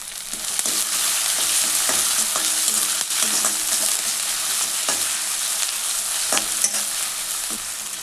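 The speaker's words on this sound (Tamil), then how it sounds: "வெங்காயம் அந்த இஞ்சி பூண்டுலாம் பாதி அளவுக்கு வதங்கினா போதும்." Onion, ginger and garlic sizzle and fry in hot oil continuously, with occasional scraping and stirring clicks, loud and close, with nobody talking.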